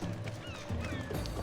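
Chickens in the video game Assassin's Creed Odyssey let out a quick burst of squawking, honking calls at close range, over a low, busy game background.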